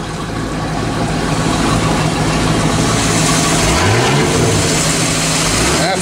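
An old boat's engine, aboard the Four Winds, running steadily just after start-up with a loud, close, even throbbing rumble, a brief rising whine near the end.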